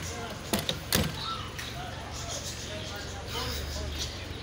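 The car door of a 1984 Suzuki FX is handled, with a couple of sharp latch clunks close by near the start, followed by quiet rustling and faint background noise.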